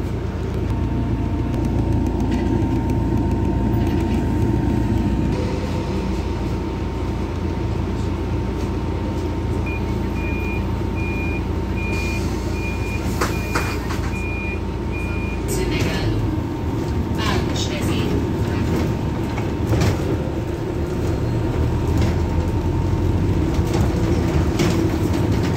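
A Volvo 7700 hybrid city bus pulls away and drives off, heard from inside as a steady loud engine and road rumble with rattles, a brief electric whine and scattered clicks, with talk at times.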